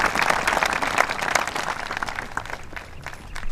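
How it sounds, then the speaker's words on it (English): An audience claps steadily for a World War II veteran and his family at a French Legion of Honor medal ceremony, with dense, sustained applause that thins slightly toward the end. "And applaud his family with us."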